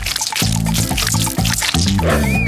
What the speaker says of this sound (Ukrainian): Тепер потрібно залити її в спеціальні формочки.